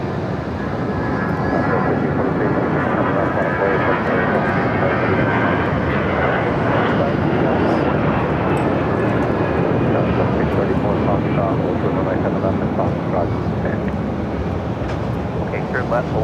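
A Southwest airliner in Lone Star 1 livery touches down on runway 7 right at Phoenix airport, a loud continuous engine roar filling the whole stretch over a gusty, rushing wash of sound.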